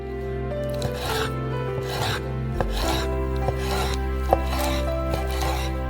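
A knife slices and scrapes through chicken thighs on a board, soft rubbing strokes with a few sharper taps against a low kitchen hum.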